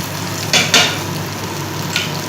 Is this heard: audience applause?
no